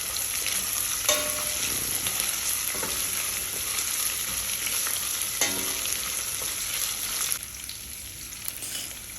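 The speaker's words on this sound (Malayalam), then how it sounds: "ഇതൊക്കെ ഒന്ന് സോഫ്റ്റ് ആവുന്ന വരെ സോട്ട് ചെയ്യുക" Chopped ginger and green apple for a quick pickle sauté in a pan with a constant, close frying sizzle, broken by a few sharp stirring clacks and scrapes, with a high steady whine running underneath.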